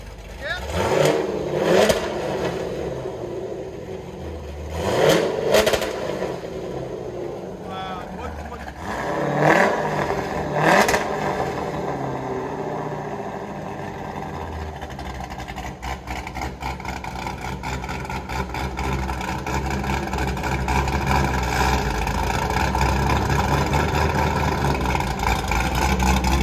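A 2001 Chevy Corvette Z06 with a cammed 5.7L V8, long-tube headers and Corsa dual exhaust revs in several sharp bursts, then settles into a loud, steady, lumpy rumble close by while people talk.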